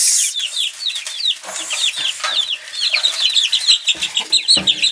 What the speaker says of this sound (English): We really love Delawares. We've had them before and found that they were fantastic chickens to have.